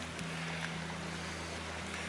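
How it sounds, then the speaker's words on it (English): Water flows along a flooded path through sessile oak woodland in a deer park, giving a steady, continuous rushing wash close by that runs unbroken throughout with no voices. "Sound of water everywhere."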